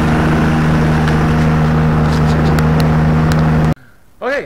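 A Challenger 2 ultralight airplane engine runs steadily and loudly for several seconds with a strong droning hum, then cuts off abruptly, leaving a quieter tail with a brief rising whine near the end.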